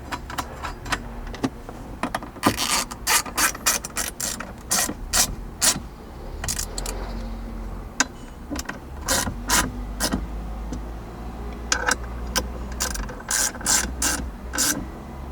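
Button head bolts, 1/4 inch, tightened with a ratchet on a Tundra dash accessory mount, giving rapid clicking bursts in repeated spurts with short pauses, close up and fairly loud, with no talking.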